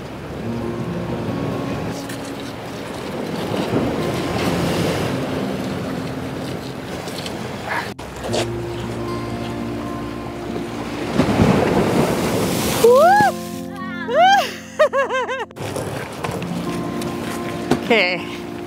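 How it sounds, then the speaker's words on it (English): Ocean waves crash and surge over a harbor rail at Santa Barbara, a rough rushing wash with strong wind buffeting the microphone, and a few brief whistling tones in the later part. "the waves are crashing up pretty well over here"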